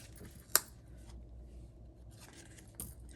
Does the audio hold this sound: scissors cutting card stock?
yes